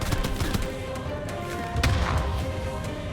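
Video game gunfire rattles in dense, continuous volleys, with sharp cracks and heavy thumps layered over a busy battlefield din.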